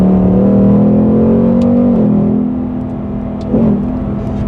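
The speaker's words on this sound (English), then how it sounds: "you can kind of blip the accelerator, get some nice revs" A 2021 Ford Mustang Mach 1 V8 in sport mode revs up close and loud, holding a steady drone, then dipping and picking back up with a short blip near the end, with no talking.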